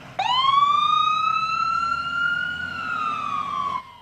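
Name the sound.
ambulance siren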